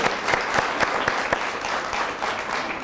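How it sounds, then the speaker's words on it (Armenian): An audience applauds a little child, a steady burst of clapping from a hall crowd with distinct claps standing out, moderately loud. "Այս փոքրիկին մի հատ նորից ծափարենք"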